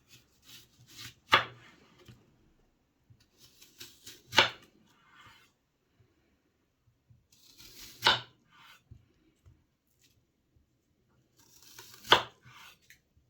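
An onion is sliced with a knife on a cutting board, four sharp, separate chops spaced a few seconds apart, close and crisp, with faint rustling between them.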